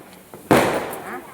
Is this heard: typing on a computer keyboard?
no